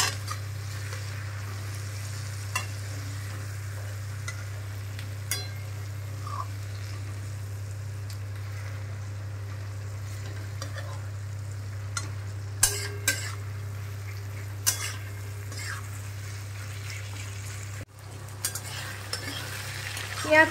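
Onions and green chillies fry for shrimp and egg khichuri, a steady low sizzle under a constant hum, with occasional clicks and scrapes of a spoon stirring the pan.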